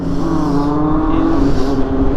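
A Yamaha MT-09 SP motorcycle exhaust roars loud and close in a steady, continuous drone as it pulls under acceleration, with no voices over it.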